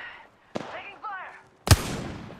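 Apex Legends gunfire cracks out as two sharp, close blasts, the second louder and followed by a rumbling tail, with a brief in-game voice line between them.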